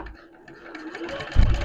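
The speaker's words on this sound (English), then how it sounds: "I just go quite roughly around the edges on my sewing machine" A domestic sewing machine runs a straight stitch around the edges of fabric ice cream bunting, giving a steady mechanical whir with a heavier, louder stretch near the end.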